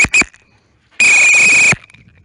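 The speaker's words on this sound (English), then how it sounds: "Very first session ever hearing the whistle." A dog-training recall whistle gives two short pips, then one long, steady, piercing blast of under a second, sounded alone and close.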